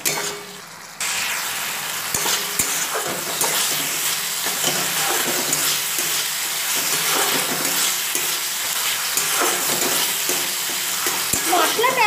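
Soft tomatoes mashed with the tip of a spatula and stirred into spices frying in a pan for a Bengali snakehead fish curry, a steady close sizzle with scraping and stirring strokes throughout, no talk.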